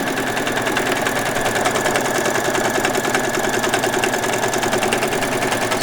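A sewing machine hums in a continuous, steady run while stitching a long straight seam on a doll's saree, with a rapid even needle rhythm and no voices.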